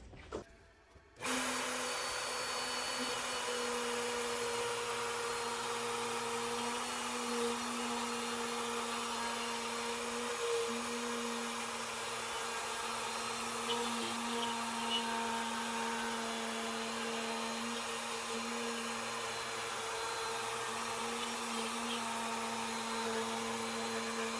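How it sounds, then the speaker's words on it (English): A router with a 3/8 inch bit plunges into maple to cut a groove, starting with an abrupt loud motor whine that holds steady and close, with a faint rough cutting noise under the high drone. "now I will slowly plunge it down through the maple and cut my groove"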